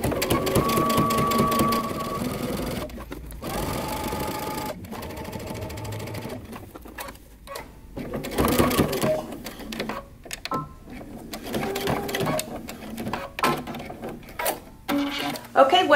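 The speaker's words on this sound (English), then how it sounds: "We're just going to follow that guide and sew it down." A sewing machine top-stitches the fly of wide-leg pants, running in a steady mechanical whir broken by a few short pauses, close and loud.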